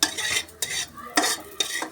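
Semolina and vegetable egg toast being fried and turned in a pan, with repeated scraping spatula strokes and clinks of utensil on pan in four bursts over a faint sizzle, no talk.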